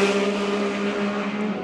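A Triumph Speed Triple RS three-cylinder motorcycle engine holds a steady, loud, close drone with a strong even hum, sustained without breaks or talk.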